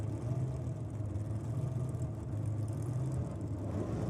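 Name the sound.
engine of a clutch drag racing car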